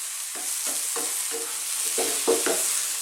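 Eggplant and potato curry sizzles in a pan over high heat, with a constant frying hiss under repeated scraping stirs of a spoon roughly every third of a second.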